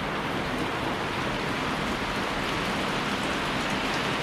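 Steady rain pours down in a rural provincial yard, a dense, unbroken close hiss with no voices or pauses.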